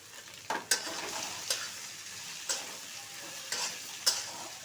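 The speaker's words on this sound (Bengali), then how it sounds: "এগুলি এখন আমি ভালো করে তেলের মধ্যে ভাজবো" Cut potatoes and carrots frying in oil in a pan, a steady soft sizzle broken by several sharp scraping stirs of a spatula, fairly quiet and close with no voices.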